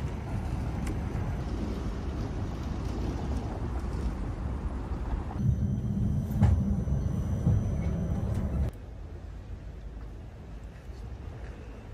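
A tram glides along Vienna streets lined with colorful buildings, a steady broadband rumble with wind buffeting the microphone and a brief thin whine in the middle before the sound drops to quieter street ambience.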